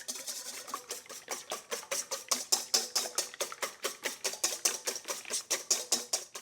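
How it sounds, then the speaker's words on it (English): Eggs whisked briskly in a bowl for a cake batter, a steady run of rapid, even clicking strokes close by, regular and rhythmic throughout with no talking. "We're supposed to whisk them until they're frothy, so I'll be whisking a little bit."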